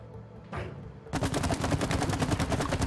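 Shooting device fired in the co-op video game It Takes Two: a brief burst, then a rapid continuous string of loud mechanical shots filling the second half, with no talking.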